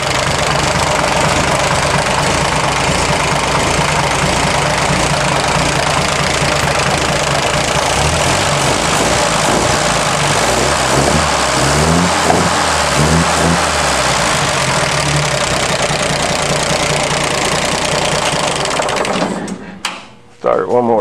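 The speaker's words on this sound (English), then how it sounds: "I'm gonna flip the ignition switch on here and hit the starter button." An old truck engine cranks on its starter button, catches and settles into a loud, steady, rough idle with a knocking rhythm, close to the microphone, then cuts off abruptly near the end.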